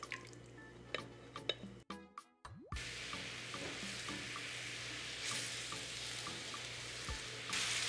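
A marinade bubbling and reducing in a hot pan, with wet plops and small drips giving way to a steady close sizzle that holds for several seconds with no talk.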